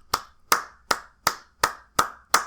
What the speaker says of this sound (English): But hey, they clapping.